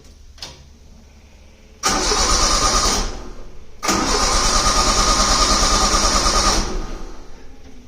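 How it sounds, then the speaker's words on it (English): A lawn mower engine is pulled and cranks twice: a brief sputter, then a loud roaring burst that cuts out, then a longer running spell that fades. "right now I actually have the mower is pretty much running, I say, and you can hear it"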